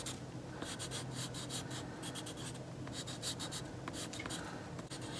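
A soft 9B pencil scratches across the back of a sheet of paper in close, quiet strokes, a continuous dry rubbing broken by quick repeated bursts as the lines are traced.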